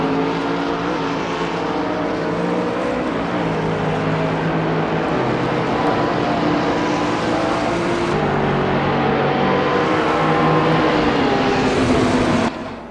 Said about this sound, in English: So we have this gaggle of cars right now jockeying for position.